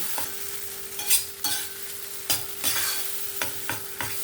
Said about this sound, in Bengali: সমস্তটা দিয়ে দিয়েছি এবার এটাকে তেলের সঙ্গে ভালো করে মিক্স করে নেব